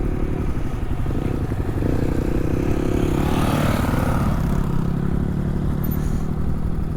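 Honda CRF 110 dirt bike riding past at Four Corners, Montana, a loud continuous engine drone that swells and fades as it passes, heard over steady wind or road rumble.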